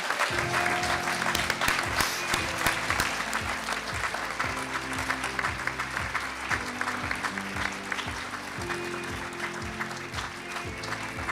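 A large crowd claps loudly and continuously at a youth work awards ceremony, with music playing steadily underneath.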